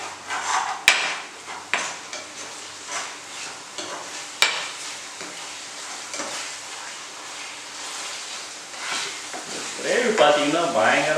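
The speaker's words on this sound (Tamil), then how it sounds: "கிண்டி விடுவோம்." A spoon stirs biryani gravy in a pressure cooker, giving scraping and knocking strokes with sharp metal clacks and a light sizzle underneath, and a voice talks quietly through it.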